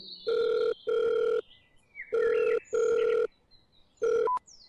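A telephone rings in four or five loud, even bursts with short gaps between them, then is cut off partway through the last ring.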